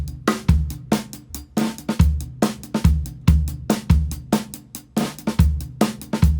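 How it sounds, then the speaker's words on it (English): A drum kit lays down a steady groove with eighth notes on the hi-hat, punctuated by regular kick and snare hits in a repeating pattern, close and crisp with no talking. "If we took this first 2 bars and played 8th notes on the hi-hat all the way through"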